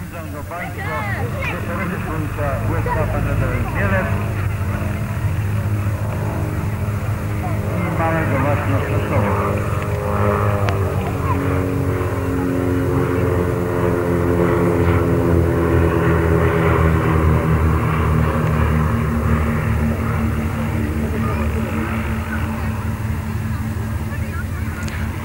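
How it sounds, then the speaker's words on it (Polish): A PZL M-20 Mewa airplane takes off at an aeroclub anniversary airshow, a sustained propeller engine drone that builds gradually, with an announcer talking over it through a loudspeaker. "następnym samolotem w kolejności, który Państwo zobaczą, będzie samolot M20. Mewa startuje."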